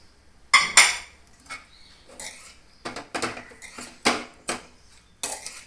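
Bread pieces dropped and stirred in a pan of oil tempering for bread oggarane, with a string of sharp clinks and scrapes of a utensil against the pan, spaced irregularly and close by, no talking.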